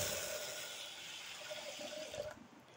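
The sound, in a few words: pouring a cup of water into the cooking pot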